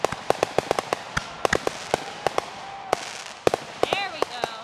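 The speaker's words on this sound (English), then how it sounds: "That's some fireworks!" Fireworks at a birthday celebration crack off in a rapid series of sharp, loud bangs, some followed by whistling crackle, with people's voices faintly in the background.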